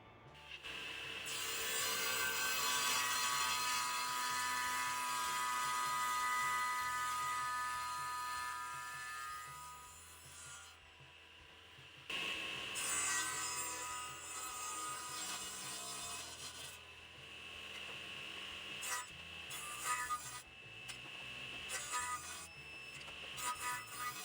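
A Laguna F1 table saw cuts through wood, a loud sustained whine and rasp that drops away briefly near the middle before more uneven cutting and rubbing noise resumes, no talking.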